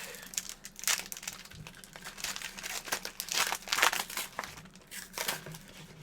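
Pokémon card booster pack being opened, an Orbeetle pack in Vivid Voltage blister packaging, giving close, continuous foil crinkling with several louder crackling bursts over a few seconds.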